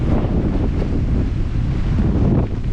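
Storm waves pound a dock and a moored boat in a steady roaring wash, heavily buffeted by wind hitting the microphone, with no voices.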